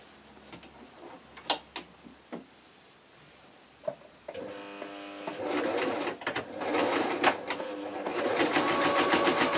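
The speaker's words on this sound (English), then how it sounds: "And then I'm going to sew the other side." Scattered clicks and handling taps give way to a sewing machine starting up and running steadily, stitching the side seam of a T-shirt, close and moderately loud by the end.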